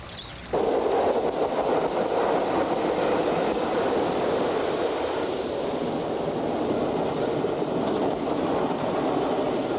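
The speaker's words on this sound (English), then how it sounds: "It's the perfect spot to wait for a glimpse of the occasional steam train." A train passes through a valley near a bridge over the young River Eden in northern England. The loud, continuous rumbling roar of rolling wheels starts abruptly and holds steady throughout, with no voices.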